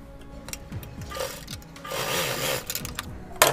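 Sewing machine stitching a cloth face mask, with a quick mechanical whir and rhythmic rubbing of fabric, fairly close, ending in a sharp click.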